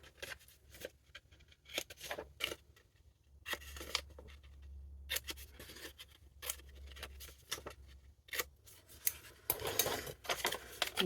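Scissors or a blade snip and scrape along scrapbook paper flaps to bevel their edges for an advent calendar, giving quiet, irregular close cuts and rustles with brief pauses.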